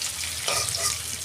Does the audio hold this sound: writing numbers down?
no